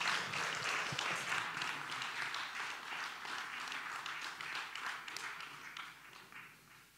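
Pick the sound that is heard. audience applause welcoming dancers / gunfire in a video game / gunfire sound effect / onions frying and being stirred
audience applause welcoming dancers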